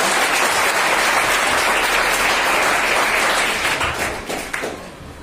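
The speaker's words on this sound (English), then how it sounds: "Can we have a big round of applause for the sir?" Loud audience applause at a student event on stage, a dense wash of clapping that holds steady, then thins out and fades toward the end.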